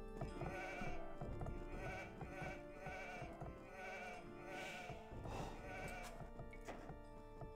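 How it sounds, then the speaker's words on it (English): Sheep bleating in the real-time strategy game Age of Empires II, a series of repeated nasal bleats in a quick rhythm over steady game ambience, close and clear with no talking. "let's bring this sheep back home"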